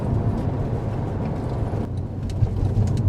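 A 2006-era Porsche 911 Carrera S 997.1 with a manual gearbox, its engine a steady low rumble from inside the car while driving, with no clear revs.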